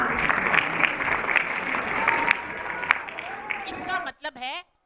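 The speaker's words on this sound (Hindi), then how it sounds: "शाबाश बच्चों, तालियां।" Children in the audience of a puppet show in Islamabad clap in a lively sustained round of applause, which breaks off as a voice speaks at the end.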